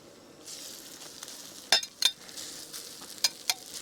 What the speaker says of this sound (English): Time to throw the rice in.